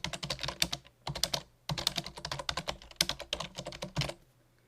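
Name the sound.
typing on a computer keyboard in LibreOffice Writer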